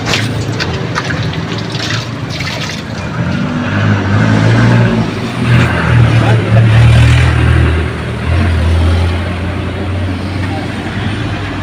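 A washing machine runs after its gear case and belt were replaced, a loud low motor drone that swells and rumbles through the middle, with a voice talking over it.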